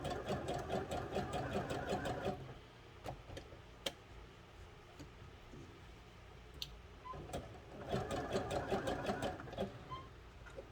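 Sewing seams with pins in the fabric, a sewing machine runs in short buzzing bursts with a rapid ticking needle rhythm, pausing briefly for a back stitch, close and fairly quiet with no talking.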